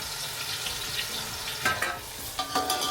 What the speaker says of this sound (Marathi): कांदा आपला लाल होईपर्यंत चांगला हलून घ्यायचा